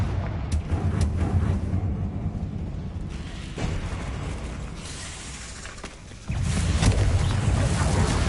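A Confringo fire spell in Hogwarts Legacy goes off as a loud, rumbling burst near the end, on top of a continuous roaring game background.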